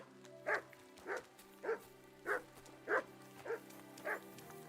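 Mutt, a dog in Kingdom Come: Deliverance II, barks steadily about seven times at even intervals, each bark short and clear over a low steady background hum.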